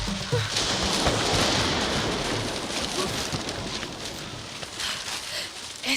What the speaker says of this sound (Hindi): इतना भयानक तूफान।